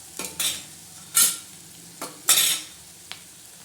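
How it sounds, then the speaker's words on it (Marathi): A spoon stirs and scrapes sprouted bean curry (usal) sautéing with onion and tomato in a pan: a few short scraping strokes over a faint sizzle, close and alone with no talking. "संपूर्ण असं परतून घेणार आहोत चमचमीत असं उसळ"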